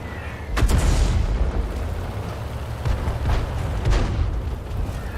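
Artillery shell explosions in World of Tanks, loud booming blasts at about half a second and again near four seconds over continuous rumbling battle ambience.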